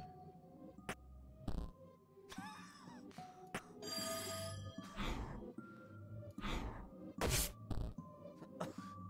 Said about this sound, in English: What was that sound like a ringing bell? I think it came from this odd device.